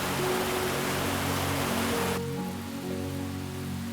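Steady rain falling onto a dry volcanic stream bed on Hallasan, Jeju, a dense, continuous hiss with low rumbling, slightly softer and duller in the second half.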